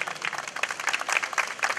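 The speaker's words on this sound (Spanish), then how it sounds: "Fuerte las palmas, damas y caballeros." Steady applause from an audience at a school award ceremony honoring a student, dense continuous clapping throughout, fairly close and even in level, with no clear speech over it.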